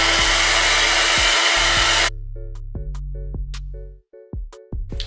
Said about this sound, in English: and then we're going to dry the glue.